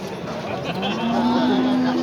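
Cattle at a busy livestock market give a drawn-out low moo that rises in the second half, set against a constant murmur of the crowd and distant voices.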